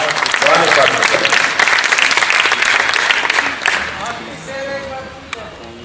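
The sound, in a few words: audience applause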